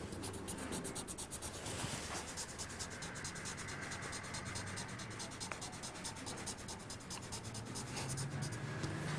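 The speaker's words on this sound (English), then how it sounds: "Take your secret fluid pen and write over." A secret fluid pen scratches and rubs across paper in a continuous dry stroke, close and fairly quiet, with no voices.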